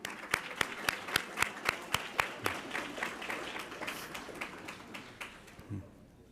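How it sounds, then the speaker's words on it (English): At a school board meeting, a few people clap in a sparse, fairly regular rhythm that thins out and fades to near quiet, with a faint murmur of voices in the room. "Let's give them all a round of applause."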